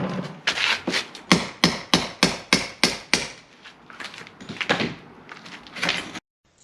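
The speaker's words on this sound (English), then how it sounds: "just hammer and chisel." Rapid series of sharp metallic hammer blows striking a chisel to remove bricks from a wall opening for a French door, about a dozen evenly spaced hits, then a few irregular knocks before stopping.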